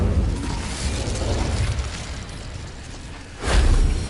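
Fire spell cast in Hogwarts Legacy, a steady roaring whoosh of flames with a sharper, louder burst near the end, no talking.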